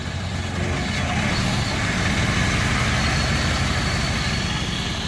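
A Lincoln car engine idles with a steady, dense rumble that holds unchanged and close by from start to finish.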